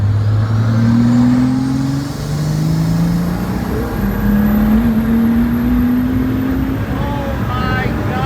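A Pagani Huayra RBC's engine pulls hard in fourth gear, a loud steady rising drone heard from inside the car with heavy road and wind noise.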